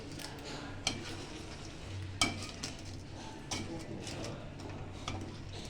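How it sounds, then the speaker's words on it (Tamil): Blueberries cooking in a pan over a slow flame are pressed with a masher, giving soft squelching stirs and a few light knocks of the masher against the pan over a low simmering bubble. "மேஷரை வச்சு நல்லா மேஷ் பண்ணிக்கலாம்"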